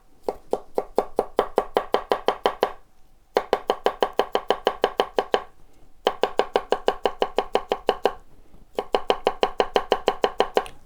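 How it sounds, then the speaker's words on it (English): A USA-made Town Cutler knife chops on a cutting board in push and tap strokes, making crisp, even knocks in four quick bursts of roughly a dozen to twenty strikes each, separated by short pauses. The chopping is close and clear, with no speech. "you can come in here and go into a push or a tap chop"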